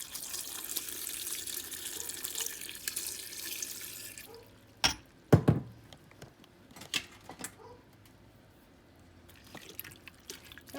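Water is poured over cut-up muscadines in a pot for jelly, first as a steady splashing rush and then trailing off into a few scattered drips and small clatters.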